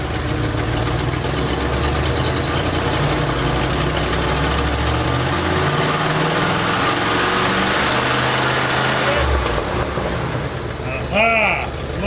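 A 1970s Lincoln engine runs loud and close, holding a steady idle and then climbing in revs. Near the end a few brief chirps rise over it, and a voice can be heard as well.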